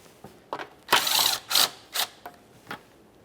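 A ratchet removes sway bar bushing bolts on a 2011-2020 Toyota Sienna, several close, loud bursts of rapid clicking separated by short pauses.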